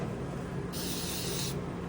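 Cleaner is sprayed onto a screen printing press in one short, steady hiss of under a second, over a constant loud background hum.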